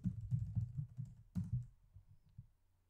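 Computer keys tapped in a quick burst of several strokes at close range, then a pause and a few more light presses as a slash is typed, quiet and without talk.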